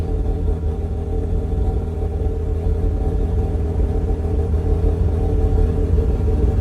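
Rotary engine of a 2004 Mazda RX-8 track car idling with the hood open through an expensive aftermarket muffler on a hot day: a steady, close, low rumbling drone holding even throughout.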